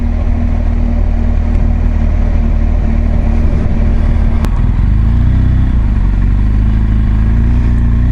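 A BMW GS Adventure motorcycle rolls over a stretch of gravel, its engine humming loudly and steadily throughout, with a brief sharp click midway and rumbling tyre noise.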